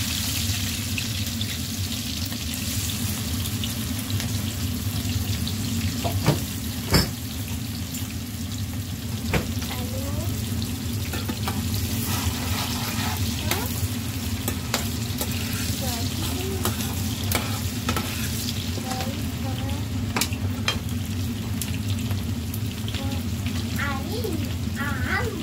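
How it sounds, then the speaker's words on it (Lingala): Onions frying in hot oil in a pan for a mushroom sauce, a loud steady close sizzle with occasional stirring clicks and scrapes throughout, no one speaking. "Naosala sauce de champignon, nazokalinga matungulu na ngai"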